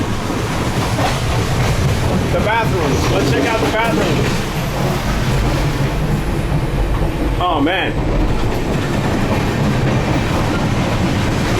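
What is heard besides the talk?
Indian passenger train clattering along the rails, heard inside carriage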